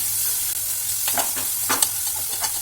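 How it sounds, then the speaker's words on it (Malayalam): Onions frying in a pan while being stirred, a bright continuous sizzle with several scraping stir strokes close by and no talk. "ഇളക്കി കൊടുക്കാം നന്നായിട്ട് മൂത്ത് വരാൻ വേണ്ടിയിട്ട് വെയിറ്റ് ചെയ്യാം"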